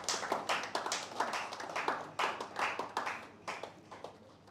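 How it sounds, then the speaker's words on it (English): Applause from an audience at a debate event, a moderate crowd clapping in an uneven rhythm with individual hand claps distinct, fairly quiet and fading slightly toward the end. "A round of applause for our esteemed judges once again"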